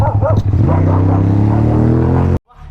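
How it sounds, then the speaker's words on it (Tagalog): Dog barking repeatedly and close while chasing a motorcycle on a group ride, several sharp barks over a loud steady engine drone that cuts off abruptly near the end. "Hinabol pa tayo ng aso ah."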